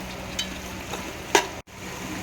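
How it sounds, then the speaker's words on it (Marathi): Tomato-onion puree with ginger garlic paste sautéed in a pan for biryani, a low sizzle with a few soft spoon clinks and scrapes, close and faint. "हे सगळं छान परतून घ्यायचं आहे"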